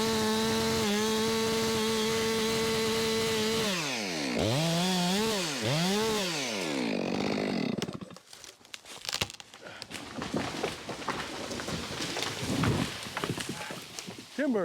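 A chainsaw idles and revs while felling a tree, then the engine drops off. It gives way to cracking, snapping and crashing sounds as the tree comes down, with scattered thuds and rustling afterward, fairly close.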